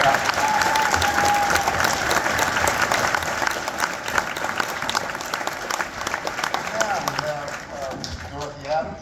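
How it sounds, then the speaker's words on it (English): Audience applause fills a school assembly hall at a Veterans Day event, steady dense clapping from a large crowd that carries on for several seconds before thinning toward the end, with some voices mixed in. "How about another round of applause?"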